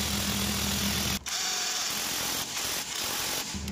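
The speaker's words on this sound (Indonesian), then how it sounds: "Ketatkan ke semua skru untuk engine mounting." A power tool runs steadily for about a second while tightening engine mounting screws on a Hyundai i10, then gives short bursts of whirring with brief pauses between, close by in a workshop.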